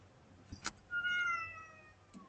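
A cat lets out one drawn-out, fairly quiet meow, preceded by a couple of soft knocks and followed by a short faint sound.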